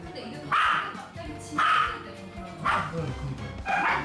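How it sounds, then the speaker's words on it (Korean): A Spitz dog barks in four loud, close bursts spaced about a second apart, each a sharp high-pitched yap, with faint background noise between them. "왜 이렇게 멈출 줄 모르고 짖고 격하게 달려드는 걸까요?"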